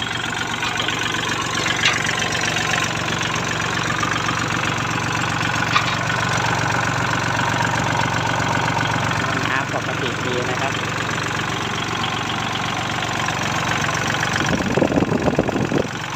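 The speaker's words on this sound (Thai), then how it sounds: "เครื่องยนต์ครับตัวนี้เป็นเครื่องไดเล็ก" A used farm tractor with a small diesel engine idles steadily and loudly at close range, with a rough, knocking mechanical rumble running the whole time.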